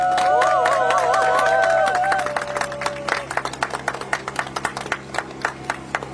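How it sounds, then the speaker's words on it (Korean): Crowd at an outdoor Korean election campaign rally claps for a district mayor candidate as a brief tonal sound fades out. The applause turns into scattered, uneven claps that slowly thin out. "후보에게 큰 박수를 부탁드립니다"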